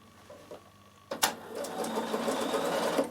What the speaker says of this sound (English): I'm just going to top stitch down both sides.